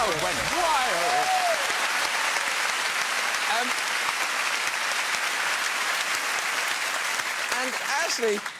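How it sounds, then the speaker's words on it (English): Studio audience on a British evening talk show bursts into loud, sustained applause that fills the whole stretch, steady and dense, with a few whoops and cheers rising over the clapping near the start and end. "Crowd went wild."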